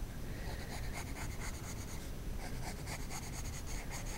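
Pencil scratching steadily across paper while darkening the lines of a horse head drawing, a close, continuous dry rasp with quick back-and-forth strokes and no pauses.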